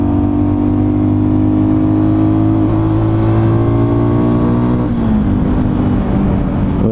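A Fantic Caballero Flat Track motorcycle engine drones steadily at mid pitch, rising as it accelerates, then dipping briefly near the five-second mark before pulling again; loud and continuous with no voices.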